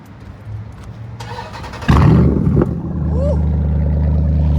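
A Jeep SRT V8 cranks and catches on a warm start with a sudden loud burst, then settles into a deep, steady rumbling idle, with a voice heard near the start.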